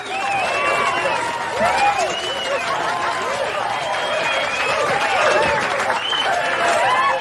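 Film audience applauding, a dense sustained clapping crowd with some cheering and chuckling, loud and continuous throughout.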